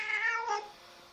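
A cat gives a single short, faint meow while giving birth, with nothing else in the background.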